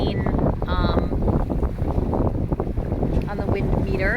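Strong wind buffets the microphone aboard a sailboat close-hauled under jib on Lake Erie, a constant loud low rumble with wave and hull noise beneath it, and people talking over it throughout.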